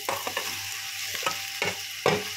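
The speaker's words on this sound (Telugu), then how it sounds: "మనం ఆల్రెడీ తరిగి పెట్టుకున్న బెండకాయ ముక్కలను కూడా అందులో వేసేద్దాము" Cut okra pieces drop into a hot pan for a Telugu okra curry and begin frying, with several bursts of scraping and stirring over a steady close sizzle and no voices.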